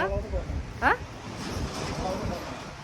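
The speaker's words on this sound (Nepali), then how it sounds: "हेर्नु यति ठुल्ठुलो थोपा परेर पानी आछ यहाँ आज" Heavy rain with big drops during a hailstorm in Nepal makes a steady, roaring wash of noise, and a voice briefly calls out over it.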